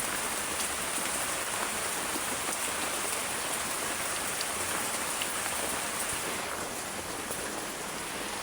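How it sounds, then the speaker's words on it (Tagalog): Heavy rain pours down steadily, a dense, continuous hiss of drops drumming on surfaces, loud and unbroken throughout with no voices. "Lakas ng ulan."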